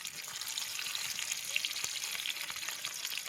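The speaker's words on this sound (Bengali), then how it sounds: "এখন আমি এই ডিমগুলো দিয়ে দেব। এইভাবে ভাজতে হয়।" Eggs sizzle in hot oil in a home kitchen pan, a faint, steady crackling hiss without voices.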